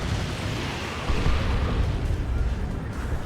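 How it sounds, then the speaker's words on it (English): Ork Tank Busters in Dawn of War 2 fire rockets at a battle wagon, a dense roaring barrage of blasts and booms with a heavier burst partway through, loud and continuous under faint talk. "Tank Buster's getting shots in."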